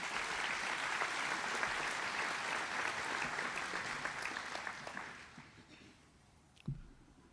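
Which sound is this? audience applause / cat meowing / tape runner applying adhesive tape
audience applause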